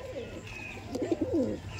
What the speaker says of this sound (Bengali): দেখুন এই ছিল মাদি পায়রা